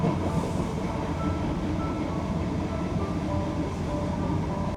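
Passenger train carrying riders to Malahide, Ireland, heard from inside the carriage as a steady, loud rumble of wheels and car noise running continuously without pause.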